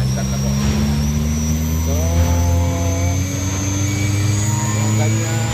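An 11 kW ZMVF air compressor's motor runs with a loud, steady drone and a rising tonal whine as it spins up, while someone speaks briefly over it.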